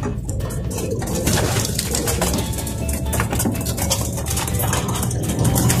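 Pigeons kept as flyers coo steadily and fairly loud through the whole stretch, layered over a dense, continuous bed of outdoor noise with no voices.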